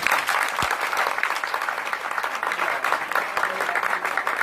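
Audience at an RCM training seminar in Mumbai bursts into loud, sustained applause, dense rapid clapping from a large crowd that carries on evenly throughout.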